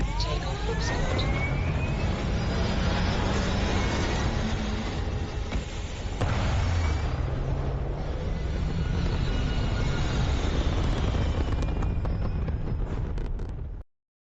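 A spaceship in the game Starfield takes off with a loud, sustained roaring rumble that holds steady for about fourteen seconds and then cuts off abruptly.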